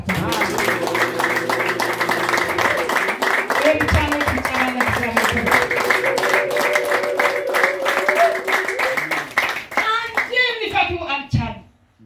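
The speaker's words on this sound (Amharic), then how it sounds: "አጨብጭቡ ለጌታ" A church congregation claps in a steady, rhythmic beat for several seconds, with a voice speaking over it, before the clapping thins out and fades near the end.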